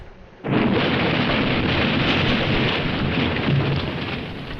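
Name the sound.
explosion of a bunkhouse in a Nancy Drew video game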